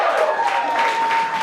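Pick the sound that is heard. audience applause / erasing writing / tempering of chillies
audience applause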